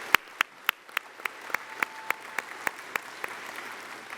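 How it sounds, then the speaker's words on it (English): Sparse clapping for recruiters at a business session, a few hands beating out an even, regular rhythm of distinct claps that gradually soften toward the end over a quiet room. "Please give one final round of applause for all our recruiters."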